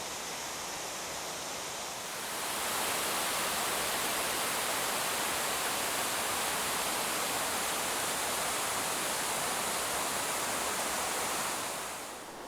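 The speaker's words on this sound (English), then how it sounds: "Just gorgeous falls." A waterfall on the Pacific Crest Trail roars as a dense, steady broadband rush, swelling up after a couple of seconds and staying loud and unbroken, heard up close with no talking.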